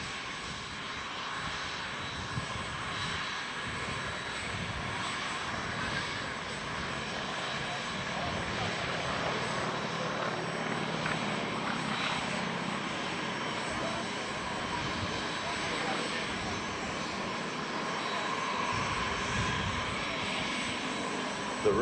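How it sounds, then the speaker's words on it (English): Propeller-driven T6 trainer flying at the Wings Over The Illawarra 2019 air show, a steady droning engine roar held for the whole stretch, moderately loud and distant, with crowd ambience and a commentator's voice underneath. "beautiful to see these two aircraft with similar heritage flying together"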